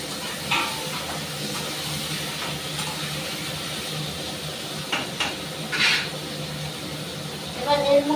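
Food sautés in a pan on a home kitchen stove, giving a steady close hiss and sizzle with a few brief louder flare-ups.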